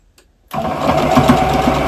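A sewing machine stitches gathered fabric, starting abruptly after a short near-silence and then running steadily with a close, buzzing mechanical whir and rapid needle rhythm.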